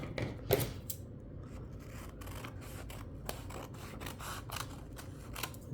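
Scissors snip through fabric pieces in a quiet room, giving a run of soft, close crisp cuts and light scraping after one louder snip near the start.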